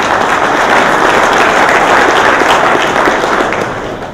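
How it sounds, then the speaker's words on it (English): Applause at a company summer meeting, a full, dense roomful of clapping held steady for several seconds, then fading toward the end. "So one more round of applause."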